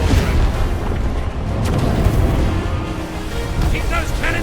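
Ship cannons firing during a naval fight in the pirate video game Sea of Thieves: deep booming blasts and rumble sound close and heavy, mixed under a steady stream of game voice talk.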